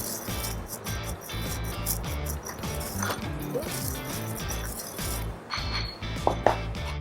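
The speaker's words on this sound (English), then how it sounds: "I'm going to pop them into my pestle and mortar. And I'm going to coarsely grind them." Cumin and coriander seeds are coarsely ground with a pestle and mortar in a home kitchen, giving repeated close gritty crunching and scraping strokes in an irregular rhythm.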